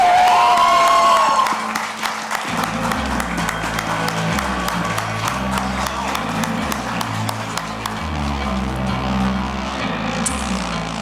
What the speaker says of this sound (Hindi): जोरदार तालियों से स्वागत कीजिए फरहान